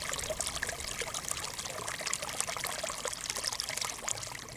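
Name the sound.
water of Ilkley beck flowing through gardens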